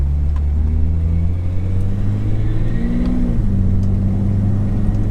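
A 1994 Toyota Land Cruiser FZJ80 pulls away under a firm punch of throttle, its engine drone loud and steady from inside the cabin, the pitch rising briefly mid-way before settling back.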